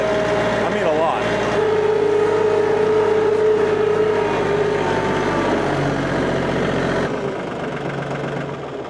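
A big diesel engine idles and rattles close by, loud and continuous with a steady low throb, then drops off sharply near the end as the sound thins out.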